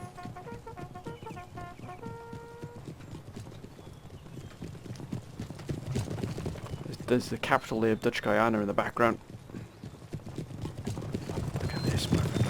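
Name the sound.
horse guards trotting, from the video game Empire: Total War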